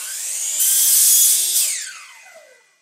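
A power saw heard through Apple AirPods Pro in active noise-cancelling mode, a muffled high whine that rises, holds briefly while cutting wood, then winds down and fades out.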